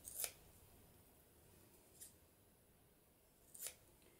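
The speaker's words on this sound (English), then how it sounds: "just cut a strip of it, then I'm going to fold it over and maybe fold it over again, cut those" Scissors cut a folded strip of paper in three quick, quiet snips, spread out with pauses between them against a near-silent room.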